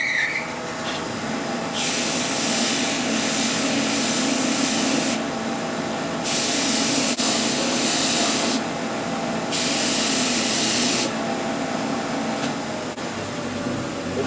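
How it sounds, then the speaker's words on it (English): A belt sander works a small flat spot on a lathe-turned wooden piece, a steady motor hum with loud, gritty abrasive rushes that come and go in several bursts as it presses on and lifts off, with no talk. "I'm gonna hit that with the belt sander"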